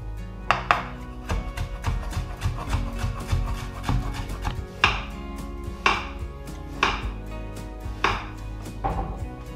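A knife on a cutting board slices yellow bell pepper into strips, with crisp rhythmic chops repeating roughly every second, close and clear with no talking.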